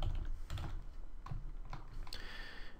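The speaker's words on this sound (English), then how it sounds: "And what should we type? We'll type banner." Text is typed on a computer keyboard, a short burst of several close key taps spaced irregularly over a constant low hum.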